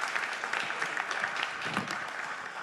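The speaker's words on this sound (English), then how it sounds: "A round of applause, please." Audience applause at a conference in a hall, many hands clapping in a dense, sustained patter that stays steady and moderately loud for the whole stretch.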